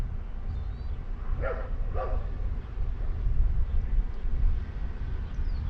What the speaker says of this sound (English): There's doggies playing.